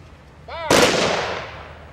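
A ceremonial rifle volley fires on command: a shouted order, then one sharp, loud, close blast that rings and fades slowly.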